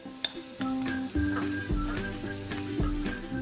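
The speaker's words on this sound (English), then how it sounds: "I'm going to let my chorizo sweat out all that beautiful chorizo oil and the oil of the pig" Chorizo and spinach sizzle loudly in a frying pan, a steady crackling fry with utensil clinks and stirring scrapes on top, close and without talk.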